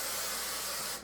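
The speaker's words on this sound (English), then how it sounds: "I'm going to spray." Cooking spray hisses onto a loaf pan in one short, close burst that cuts off abruptly.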